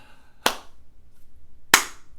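Two sharp, isolated claps sound close and alone, spaced a little over a second apart, with quiet between them.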